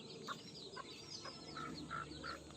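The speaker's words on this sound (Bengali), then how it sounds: "সকালবেলা কুটির থেকে মুরগিগুলা বাহিরে বের করে দিয়েছে" Hens and roosters let out of their coop in the morning into a rural yard beside a pond with banana trees, giving several short, moderately close clucks at a fairly steady rhythm, with no talking.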